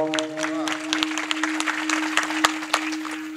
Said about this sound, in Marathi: जोरात टाळी वाजा बरं जरा जोरात